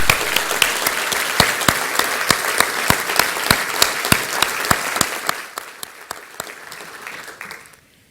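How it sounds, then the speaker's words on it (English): An audience at a lecture applauds in honour of Tom Fogarty, a full round of clapping with a few sharper claps standing out, holding steady for about five seconds before thinning and fading away. "So if everyone could just join me in a round of applause for his contributions."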